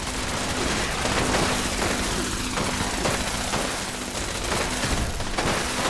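Turrets in Fallout 76 fire loud, sustained bursts of automatic gunfire, a dense rattling fusillade with sharper individual shots throughout.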